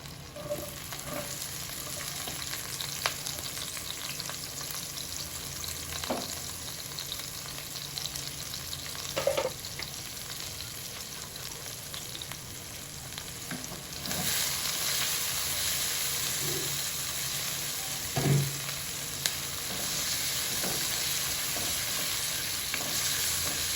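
Plenty of onions frying in a pan for a pork ribs dish keep up a continuous, close sizzle that swells louder about halfway, with occasional soft stirring knocks and a faint steady hiss underneath.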